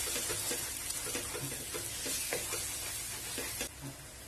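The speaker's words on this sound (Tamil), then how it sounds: "இப்போ இந்த மாதிரி முட்டை பாதி அளவுக்கு வெந்ததும் இந்த மசாலாவோட சேர்த்து மிக்ஸ் பண்ணி விட்டுறலாம்." Half-cooked scrambled egg sizzles steadily in a pan as it is stirred into masala, with repeated light scraping strokes over a continuous frying hiss.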